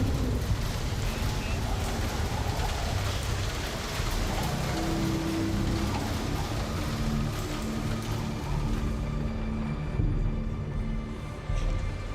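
Steady heavy rain pours in the Star Citizen video game, a dense continuous hiss with wind and a low rumble underneath, easing slightly toward the end.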